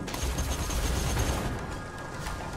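Enemy fire in the Borderlands 2 game, a dense rumbling fusillade of rapid shots and low booms that carries on steadily and fairly loud, with no talking.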